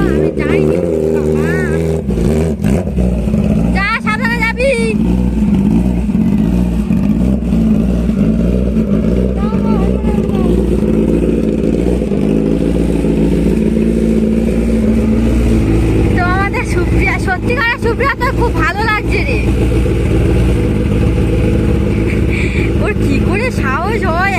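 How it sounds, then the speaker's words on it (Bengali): A motorbike engine idles and revs in a steady low drone that rises as the rider pulls away, while people talk loudly nearby over the engine throughout. "বাইকটা নিয়ে এবারে যাবে"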